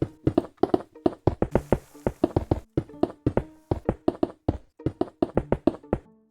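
Blocks placed in quick succession while building walls in Minecraft, sharp dry taps in rapid uneven bursts, close and crisp, with short pauses between clusters and no talking.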